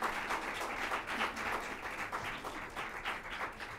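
An audience gives a round of applause at a Commonwealth Day celebration, a steady dense clapping that carries on at moderate level for the whole stretch, with no talking over it.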